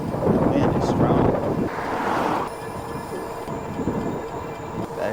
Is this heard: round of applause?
no